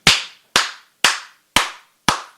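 Five sharp, close hand claps at an even pace, roughly half a second apart, each ringing out briefly in a quiet room with no talking.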